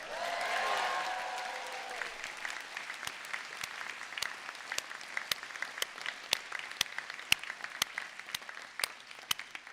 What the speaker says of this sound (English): You can see that we're all clapping you because we're all very proud of you too.